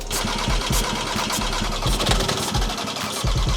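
A TDI car engine cranks over and fails to start, giving a close, rhythmic churning pulse that repeats without catching.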